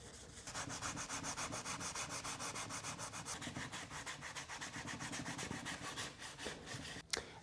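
A scrubbing pad rubs leftover adhesive off the top of a ski in fast, rhythmic back-and-forth strokes. The harsh, even scratching holds close and steady for about seven seconds, then stops with a brief knock.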